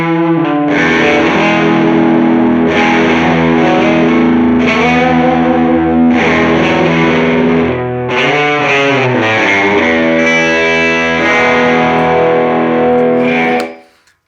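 Electric guitar runs through an Old Blood Noise Beam Splitter, a pedal with three distortions in one, and plays loud, saturated chords that ring out with a thick, fuzzy sustain and fade at the end.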